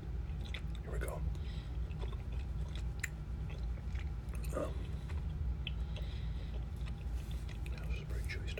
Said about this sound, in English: This is pretty chewy stuff I'm eating.